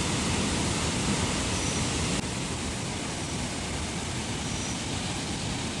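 Rautwadi waterfall at Radhanagari during the monsoon, a dense, steady roar of falling water, close and loud with no pauses.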